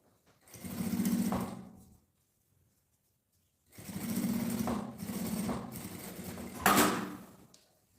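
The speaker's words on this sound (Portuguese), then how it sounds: "Coloca a largura do ponto aí lá no 4, para fazer um pesponto bonitinho, e vamos passar uma costura aqui." A sewing machine runs topstitch seams along a bag lining, set to a wide stitch width, in two close, steady bursts separated by a pause, with a brief louder rattle near the end of the second run.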